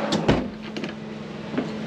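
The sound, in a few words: pull-out drawer opened in Lance 1062 truck camper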